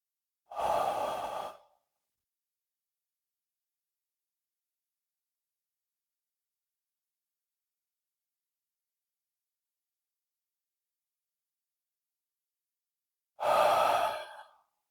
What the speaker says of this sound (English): We'll take 3 breaths together.